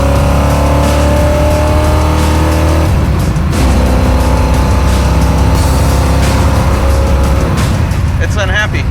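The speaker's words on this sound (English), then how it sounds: "because it's a 5-speed, because it's got dual pipes on it, it sounds amazing, it's fun to drive." A 5-speed manual car with dual exhaust pipes accelerates hard on a road trip, its engine a loud, steady, close drone that drops briefly around a gear change and then climbs again, with a voice faintly beneath it.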